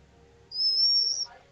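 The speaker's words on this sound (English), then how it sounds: "No, I think it's like someone's nose breathing whistle." A thin, steady whistle from someone's nose while breathing holds a single high pitch for about three quarters of a second, clearly audible over faint low background murmur.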